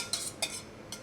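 Custard mixture for a crème anglaise being stirred in a saucepan over very low heat, heard as three quiet, brief metallic clinks of a utensil against the pan.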